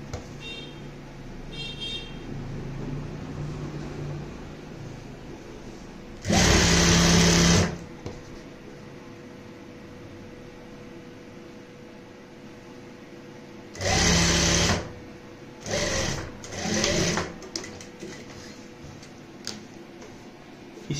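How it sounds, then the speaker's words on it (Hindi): A sewing machine runs basting stitches along a folded blouse hem in four short bursts: one longer run early, then three quick runs close together near the end, with quiet pauses between and no talk. "यहाँ पे आप कच्ची सिलाई लगाएंगे"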